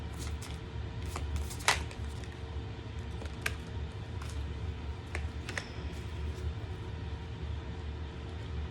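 Tarot cards being shuffled, soft riffling and flicking close by over a steady low background hum, with a few sharper snaps of card edges.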